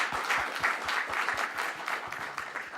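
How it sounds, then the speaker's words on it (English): Audience applause at a Nordic-Chinese business forum closing, a dense steady wash of many hands clapping throughout, fairly loud and continuous with no talk. "So a big applause to us now."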